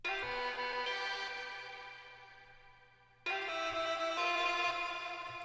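Bright chopped sample slices smeared by heavy reverb and grainy delay, fading into a wash before an abrupt new burst kicks in.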